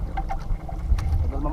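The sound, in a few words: fishing boat engine slowly winding down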